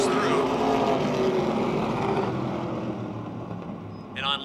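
Stock cars race at Motordrome Speedway, engines roaring in a steady loud drone under an announcer's commentary, with a car passing close near the end.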